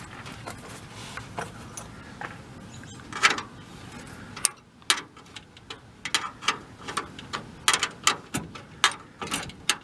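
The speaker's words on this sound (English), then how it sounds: "The next step is take these screws out" Screws being worked out of a master cylinder on an early VW bus, a series of close, sharp metallic ticks and clicks that grow more frequent and rhythmic toward the end, like a ratchet.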